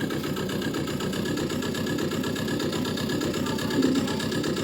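A tractor pulling a borrowed trailer slowly back to the farm after baling, its engine chugging steadily at low revs with a constant close drone and a slight swell near the end, no talk.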